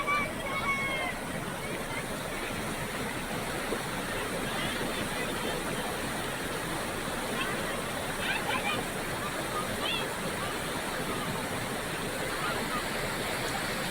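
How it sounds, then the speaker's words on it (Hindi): A swollen monsoon stream in Nismor, Uttarakhand, rushes loudly with muddy floodwater where schoolchildren cross, a constant dense roar of churning water that never lets up. "निस्मोर में उफनाए नाले को स्कूली बच्चे पार कर रहे हैं"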